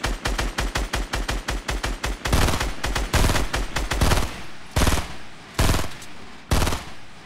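Rapid automatic gunfire rattles in bursts in a video game firefight, loud and close, with a fast regular stream of shots at first and then longer separated bursts.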